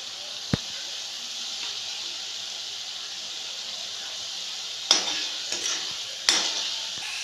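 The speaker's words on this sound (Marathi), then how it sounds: "तोपर्यंत छान अशी ही तेलामध्ये परतत राहायची" Masala sautéing in oil in a pan, a steady bright hiss of frying with occasional sharp clicks and scrapes of a spoon stirring against the pan.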